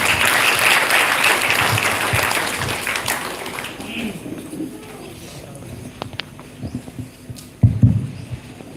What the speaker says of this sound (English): Let us give a big round of applause as we welcome our principal.